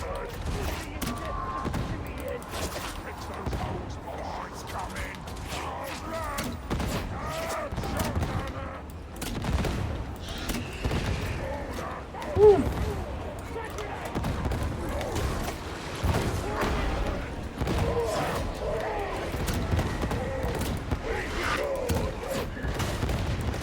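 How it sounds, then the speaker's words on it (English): Repeated grenade explosions and gunfire burst through a hectic battle in Warhammer 40,000: Darktide, with booms and shots packed densely across the scene and a louder blast near the middle, under a player's voice. "There's so many grenades going off."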